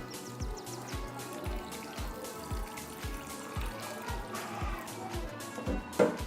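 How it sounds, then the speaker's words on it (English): Water pours into a pot of potatoes in a steady, fairly soft trickle, with repeated light knocks and clinks at a regular pace and a brief louder splash near the end. "So I add a bit of water."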